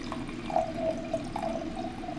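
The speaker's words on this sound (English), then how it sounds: "Let's all pour ourselves a glass." French Chardonnay poured from a bottle into a glass, a soft steady trickle with faint gurgles running for a couple of seconds, quiet and close.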